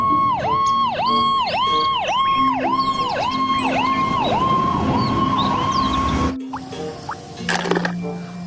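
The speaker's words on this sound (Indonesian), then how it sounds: "Wow, pemadam kebakaran." A toy fire truck's electronic siren wails in a rapid repeating up-down pattern, loud and close, then cuts off abruptly, followed by faint handling clicks.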